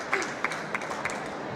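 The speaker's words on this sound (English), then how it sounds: "Round of applause." Applause from a conference audience at a travel summit in Dublin, a brief, steady wash of clapping with a few sharper claps standing out, heard at moderate distance.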